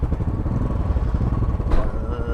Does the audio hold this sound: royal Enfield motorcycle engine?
yes